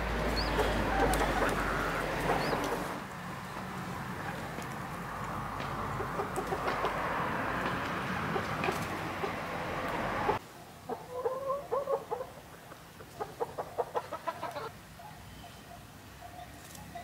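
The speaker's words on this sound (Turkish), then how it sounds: "bu boyu büyük, adı minik olan tavuk özellikle inanılmaz yumurtluyor" Chickens of a large-bodied laying breed cluck in a farmyard, steady close clucking over a noisy background at first, then sparser, sharper clucks and calls after a sudden drop in the ambient noise.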